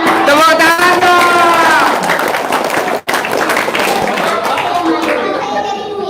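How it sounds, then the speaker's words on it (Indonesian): Audience clapping at a testimonial gathering, loud and close, with voices talking over it at first and a brief cut midway before the clapping carries on. "Tepuk tangan dong."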